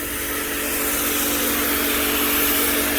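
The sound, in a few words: snow foam sprayer washing a car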